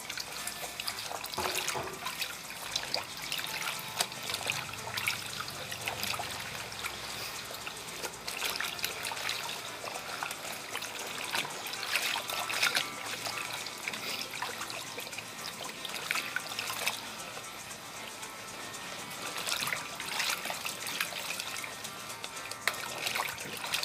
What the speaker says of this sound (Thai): วิธีการล้างก็คือล้างจนกว่าฟองจะไม่มีในน้ำนะคะ